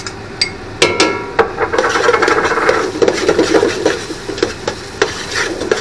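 A spoon stirs tomato paste into a pot of Sunday sauce with meatballs, Italian sausage and pork, making steady close scraping and rubbing against the pot with a few sharper knocks, and no voices.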